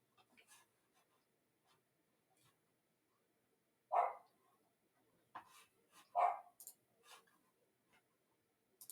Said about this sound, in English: that dog just won't stop barking